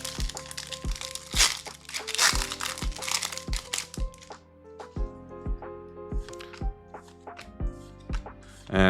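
Pokémon card booster packs being torn open in quick succession, a run of crisp crinkling foil rips and cracks in close, uneven bursts, with music playing underneath.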